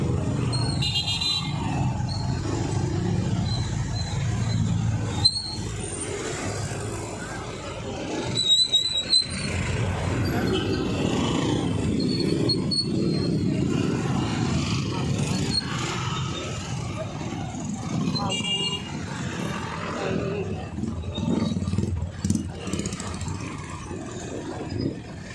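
Road traffic surrounds the scene, a steady low rumble of vehicles with occasional squeaks and engine noise, continuing under people talking nearby.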